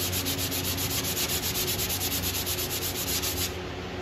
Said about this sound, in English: When I start to sand, especially this red right here,